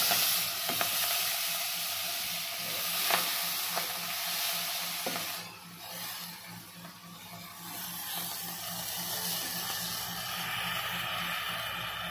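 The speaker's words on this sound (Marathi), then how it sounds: "गरम मसाला म्हणजे खडा मसाला घेतलेला आहे, तो परतून घेऊया थोडा" Whole garam masala spices sizzle steadily in a hot pan while being stirred for a veg biryani, a close, continuous frying hiss broken by occasional scrapes and clinks of the spoon, with no talking.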